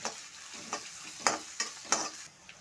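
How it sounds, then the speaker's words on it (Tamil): Onions and curry leaves fry softly in a pan for a chilli chapati, with a faint sizzle under several distinct spatula scrapes as they are stirred. "கருவேப்பிலை பெரிய வெங்காயம் வெங்காயம் ரெண்டு போட்டு நல்லா கலரி விட்டுக்கணும்"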